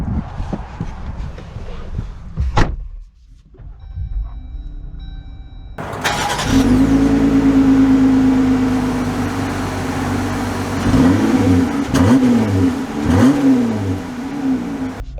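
A 2022 Jeep Gladiator Sport S cranks over and starts, then the engine settles into a loud, close idle and revs up a few times as it pulls away.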